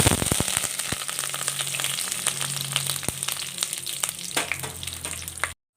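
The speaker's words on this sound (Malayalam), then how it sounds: "അപ്പം വെളിച്ചെണ്ണയൊക്കെ ചൂടായി വന്നപ്പോൾ ഒരു ടീസ്പൂൺ ഉഴുന്നുപരിപ്പിട്ട് കൊടുക്കുക അതിൻ്റെ കൂടെ തന്നെ ഒരു തണ്ട് കറിവേപ്പിലയും കൂടെ ഇട്ട് കൊടുക്കുക" Urad dal and a sprig of curry leaves hit hot coconut oil for a pulao, giving a loud, steady close sizzle with sharp crackles and pops throughout, no voices.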